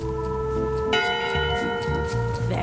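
A single ship's bell strikes with a clear ringing tone that sustains and slowly decays, set in the pirate video game Monkey Island, heard alone without talk.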